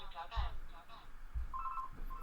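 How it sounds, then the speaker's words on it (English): A landline house phone rings faintly in the background, a short electronic trill under ongoing talk and low thumps. "the house phone's ringing"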